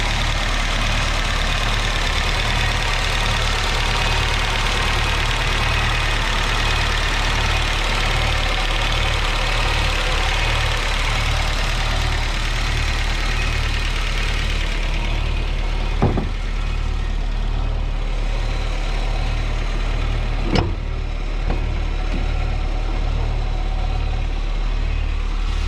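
1982 BMW 320is (E21) engine idling rough, a loud, steady low rumble with an uneven pulsing beat and a few sharp clicks near the end, no talking.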